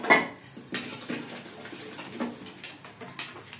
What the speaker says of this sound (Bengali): আমি এবার চুলার উপরে তাওয়াটা বসিয়ে নেব।